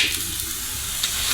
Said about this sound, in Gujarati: આપણે હવે પરાઠાને પલટાવી લઈશું